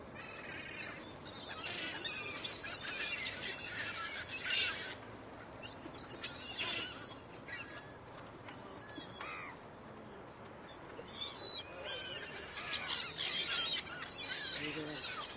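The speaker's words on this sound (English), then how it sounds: "good bird" Seagulls call outdoors in scattered squealing cries, some close and loud and others fainter, over a soft background with occasional voices.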